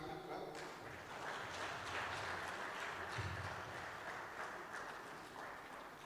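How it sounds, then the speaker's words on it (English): Audience at an awards stakeholders meeting gives a round of applause for a speaker, a faint, distant steady clapping throughout. "I think she deserves a big clap."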